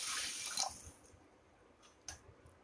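Water pours into a pressure cooker holding green gram (mung beans) for a Tamil-style kulambu, a soft splashing trickle that fades within a second, followed by a few faint drips and a small clink.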